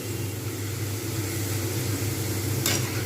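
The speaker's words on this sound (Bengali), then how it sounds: "এই রকম ছাঁকা তেলে দুটো তেলে ভাজতে হবে" A steady, close sizzle of sliced potatoes deep frying in hot oil, continuous and even, with a brief click near the end.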